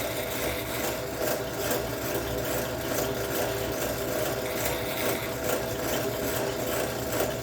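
Sandpaper sanding a rubber Pro-Stock pulling tire as it spins, a continuous loud rasping drone with fast rhythmic chatter from too much pressure, close and without talk.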